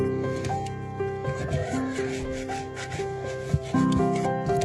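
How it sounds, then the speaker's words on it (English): A bench scraper scrapes sticky sourdough off a countertop, giving soft close rubbing and scraping strokes over a low steady hum. "I'm going to take my bench scraper and use it to help loosen up the dough from the counter."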